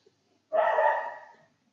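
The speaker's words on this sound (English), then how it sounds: "You'll have to excuse my dog there." A single pet dog barks once indoors, a short, fairly close bark that fades quickly into quiet, with no talking.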